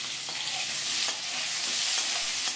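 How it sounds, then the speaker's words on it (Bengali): Long strips of potato sizzle and crackle in hot oil with whole spices while a spoon stirs them, with steady broadband frying and a few soft scraping strokes across the pan. "আলুগুলোকে নেড়েচেড়ে নিয়ে 2-3 মিনিটের জন্য প্রথমে ভেজে নেব"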